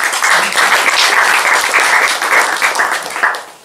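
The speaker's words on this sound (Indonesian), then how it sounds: "Kita beri aplaus dulu." Audience applause after a lecture on Serat Lokajaya, a dense, even wash of many hands clapping at close range for several seconds before fading out at the end.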